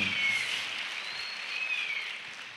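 Audience applause at a conference session in Fortaleza: a steady, fairly soft wash of clapping that holds at an even level for a few seconds.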